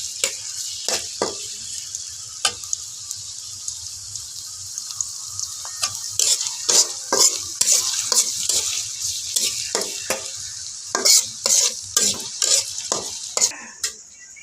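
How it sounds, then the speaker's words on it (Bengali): Chopped onions fry in hot oil in a pan for a Bengali fish-head and potato curry, a soft steady sizzle punctuated by repeated sharp scrapes and knocks of a spatula stirring against the pan, close and without voices. "পেঁয়াজ কুচিগুলো ভাজিয়ে লইয়াম।"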